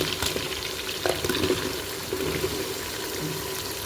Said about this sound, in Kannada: ಸ್ವಲ್ಪ ಹಾಗೇನೆ ಫ್ರೈ ಮಾಡೋಣ